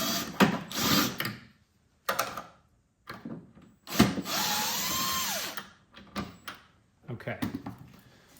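Power drill backing screws out of the back panel of a Greenworks 20-inch single-stage snowblower, several short whirring bursts, one longer with a rising whine, close by and mixed with someone talking between them.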